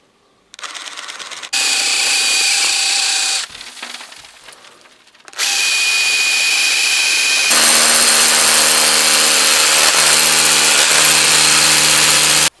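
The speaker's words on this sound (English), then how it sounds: "if I can, I will try to drill a little bit upwards" A power drill whirs loudly in several bursts, starting and stopping, then grinds steadily and harder as it bites into the wall of an old French country house.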